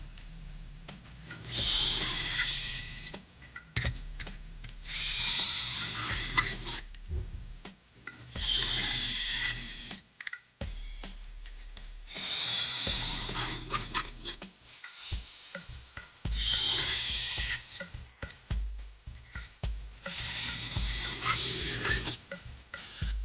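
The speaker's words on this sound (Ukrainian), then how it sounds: "І ось такими самими рухами ми вже правимо нашого ножа." A kitchen knife being honed on a smooth, fine 3000-grit whetstone, with steady back-and-forth rasping strokes in about six rhythmic bursts, close and fairly loud, no talking.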